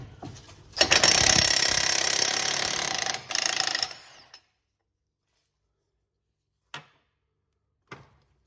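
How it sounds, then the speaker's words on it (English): Impact gun undoing a hub nut on a Ford Transit van: a loud, close rattling burst of about three seconds and a shorter follow-up burst, then silence broken by two sharp metallic clinks. "because I've got an impact gun"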